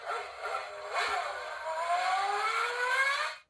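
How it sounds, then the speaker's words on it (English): A racing car sound effect from a button on a children's transport sound book plays alone, a bright rising whine of a high-revving engine climbing steadily for about three seconds before cutting off abruptly. "Did sound like a racing car."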